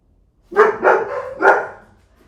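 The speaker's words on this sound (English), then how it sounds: "Sorry for the barking, guys." A real dog barks close by in a room, three sharp barks in quick succession, loud and alone with no talking over them.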